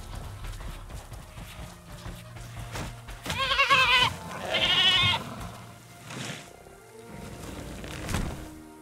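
A goat in Jurassic World Evolution bleats loudly in two strained cries as an Atrociraptor seizes and kills it, amid thuds and rustling game sounds.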